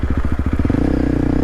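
A dual sport motorcycle rides along an all-dirt road, its engine chugging in rapid loud pulses that smooth into a steady higher drone, with wind and rattling close to the rider and no voices.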